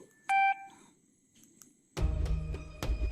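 A phone rings through on speakerphone, with a short, loud electronic tone followed by quieter beeps, then a burst of louder ringing and clicking.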